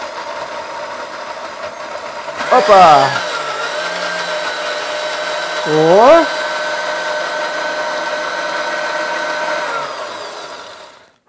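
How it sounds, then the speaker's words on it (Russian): A blender motor whirs steadily chopping viburnum berries, with two brief surges as it chops, while a voice exclaims briefly over it; the motor cuts off at the end. "теперь мы с вами на блендере все это"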